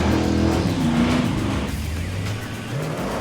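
A Chevy S-10 truck with uncorked exhaust launches on a 1/8 mile strip, its engine roaring loudly with rising revs, a hint of tire noise and a brief drop as the gears change.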